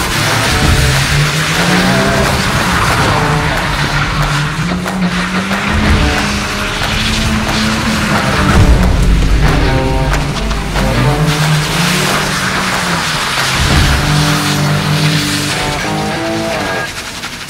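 A new BMW drifts with long, loud tire squeals and engine revving throughout, the wails rising and falling in sweeps, with voices talking faintly underneath.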